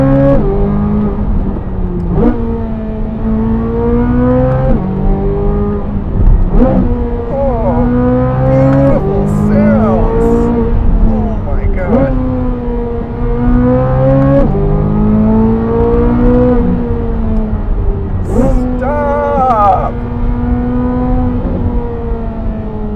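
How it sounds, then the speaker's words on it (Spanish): A Corvette Z06 engine revs repeatedly, its loud, rising and falling tone climbing and dropping over and over in steady waves, close and without talk. "vamos a tomar un momento para escuchar este motor"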